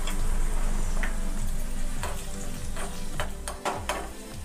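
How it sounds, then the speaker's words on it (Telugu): Raisins fry in ghee in a small pan, giving a continuous close crackling sizzle with a few sharp ticks and scrapes of stirring near the end. "తర్వాత 1 స్పూన్ కిస్మిస్ వేసుకొని వేయించుకుందాము."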